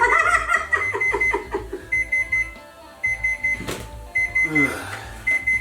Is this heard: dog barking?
no